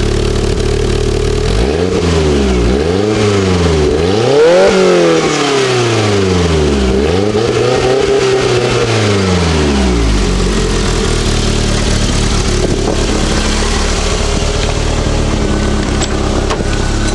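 A car engine revs close by, rising and falling in several swooping bursts, then settles into a steady, loud idle.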